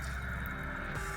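Water poured into a saucepan to make jaggery tea, a steady close liquid splash and trickle running continuously for about a second with no talking.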